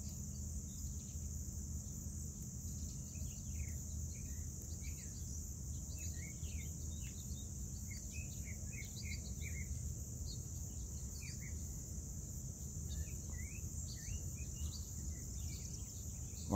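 Outdoors in a garden, scattered birds chirp and sing at a moderate distance over a constant high insect drone and a low background rumble, with no voices.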